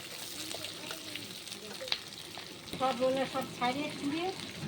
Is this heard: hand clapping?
no